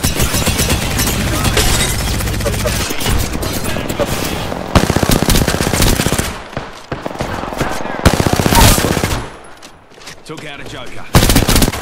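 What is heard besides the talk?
gunfire in the video game Apex Legends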